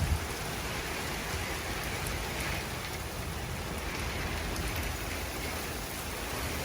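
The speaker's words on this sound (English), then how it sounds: "We've got crazy rain again." Heavy rain pours down steadily, a dense, even hiss of drops drumming on surfaces with no pauses or voices.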